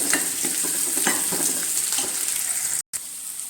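Sliced shallots sautéing in a pan, a steady soft sizzle with occasional stirring scrapes, close and alone, briefly cut out near the end.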